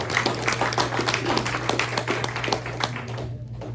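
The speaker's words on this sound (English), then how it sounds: "Let's give him a round of applause." Applause from a luncheon audience at a Santa Barbara athletic awards event, a lively patter of many hands over a faint steady hum that tapers off toward the end.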